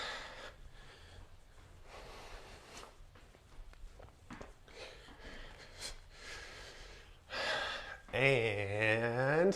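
Heavy breathing during an aerobic workout of side steps and punches, with gasps and snorting exhales over shuffling footsteps, growing louder near the end as a voice breaks in.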